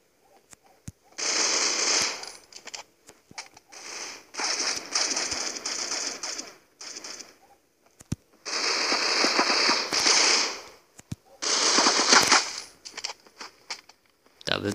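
Assault rifle fire in the mobile shooter game Critical Ops comes in several sustained automatic bursts of sharp cracks, separated by short gaps, fairly loud and with no voices.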